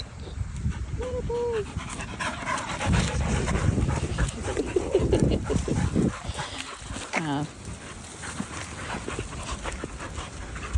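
A spaniel puppy yips and whimpers with high, rising cries among panting and scuffling, while people talk nearby throughout.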